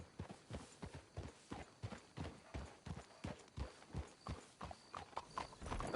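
Horses clip-clop in the video game Red Dead Redemption 2, a quick steady run of hoofbeats that keeps a brisk, even rhythm, quiet and alone with no voices.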